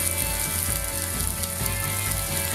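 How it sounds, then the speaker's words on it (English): Onions and peppers sizzling in hot oil in a frying pan on maximum heat, a steady close crackle and hiss with occasional faint scraping, no voices. "I'm going to let this fry for a few minutes."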